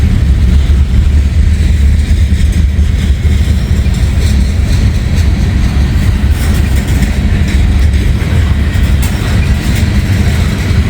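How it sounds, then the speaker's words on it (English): A heavy freight train of gondola cars rolls past, a loud, steady low rumble that holds without a break from start to finish. "Big old heavy train. I mean, you can hear this thing rumbling."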